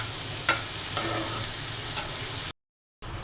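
Freshly picked water spinach fries in a pan, giving a quiet, even sizzle with a few light stirring clicks, close by, then a brief dropout of total silence before the frying resumes.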